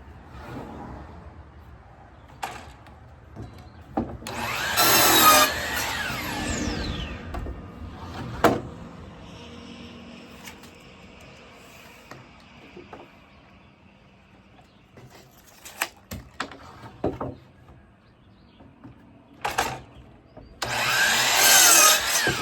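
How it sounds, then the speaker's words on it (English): A wooden board for a set of board doors is cut with a saw in a workshop: a strong burst of sawing near the start, scattered knocks and handling sounds in between, and another loud cutting burst at the end. "We'll cut this board."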